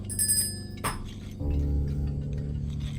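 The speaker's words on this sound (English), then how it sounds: "Ring the bell." A bell is rung during a physical tabletop game of Inscryption, a short bright ring with a sharp onset and ringing overtones, followed by a low steady hum.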